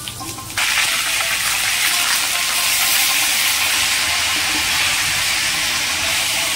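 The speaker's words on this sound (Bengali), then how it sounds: "এইবারে ওই তেলে ফুলকপিগুলো আমরা ভেজে নেব।" Cauliflower pieces frying in hot oil in a pan: after a brief quieter moment, a loud, steady close sizzling hiss starts and holds unbroken, with no voices.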